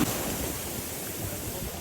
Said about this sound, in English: the waves are always so damn big